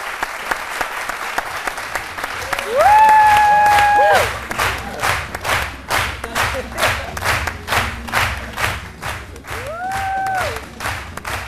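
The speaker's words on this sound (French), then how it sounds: "Applaudissements pour l'encourager." A studio audience at a fashion-themed TV show applauds loudly and continuously, with cheers and whistles rising over the rhythmic clapping.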